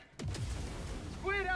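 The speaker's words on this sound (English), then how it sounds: "Firing gas strike." Gas strike artillery firing in a video game: a single deep boom followed by a rumbling tail, with a short voice line entering at the end.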